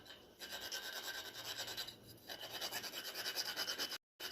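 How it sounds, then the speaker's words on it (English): Whole nutmeg scrapes against a hand grater in a steady run of quick rhythmic strokes, with brief pauses, close and fairly quiet. "if you don't have this grater, you can use this grater if that's what you have"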